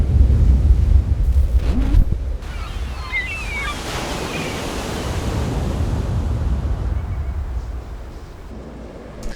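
Ocean waves and gusting wind are layered into a dense ambient intro, a loud low rumble with steady surf wash and a brief high shimmer, and no voices.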